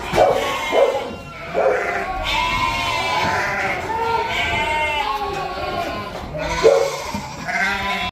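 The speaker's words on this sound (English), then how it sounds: "lambs are going back out to their mothers now, reuniting" A flock of lambs bleating loudly and continuously on a farm as they return to their mothers, overlapping high calls up close, with a dog barking briefly among them.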